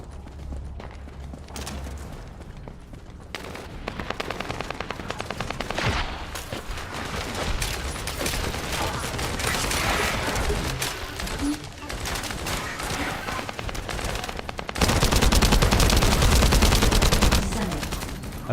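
Video game gunfire, with dense rapid bursts of shots and impacts running continuously at high volume and a louder barrage near the end. Footstep-like clatter mixes in.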